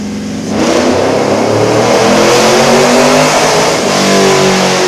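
A cammed 5.3 LS swap V8 in a 1979 Dodge Lil Red Express, with Hooker headers, revs hard on a dyno, climbing steadily in pitch from a loud idle into a sustained, close, roaring pull.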